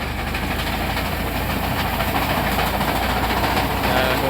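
A loud, steady mechanical drone of a tractor-driven reaper harvester cutting wheat, a continuous engine rumble with broadband clatter and no pauses.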